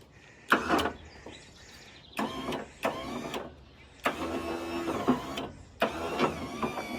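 Hooklift truck tarp arms move a tarp over the load in short bursts of whining motor and mechanical grinding, separated by brief pauses, fairly close, with no talking.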